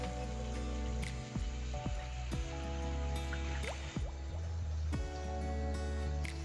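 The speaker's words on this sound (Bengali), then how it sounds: "টমেটোটা নরম হয়ে এসেছে, এরপর জল অ্যাড করে দেবো।" Water poured into a pan of softened, cooked-down tomatoes while making a spicy puti fish curry, giving a steady liquid pouring and bubbling sound with drips and splashes, close up and continuous with no talking.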